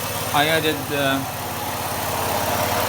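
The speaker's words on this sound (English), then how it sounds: "we can start the car and try it. So far so good now. So the engine's still cold now." A cold 2010 Ford Escape engine idles evenly just after a new water pump and thermostat were installed and antifreeze added, with someone briefly talking over the steady close hum at the start.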